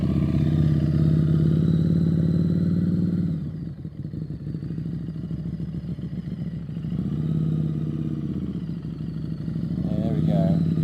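A Harley motorcycle on a riding test revs strongly, drops to a lower rumble as it turns, then builds its revs again, with an instructor's voice speaking over the engine.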